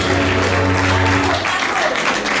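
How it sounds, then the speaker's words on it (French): A crowd at an awards ceremony applauds an artist, a steady clatter of clapping mixed with a low musical hum from the venue sound system. "Est-ce qu'on peut bien applaudir pour l'artiste"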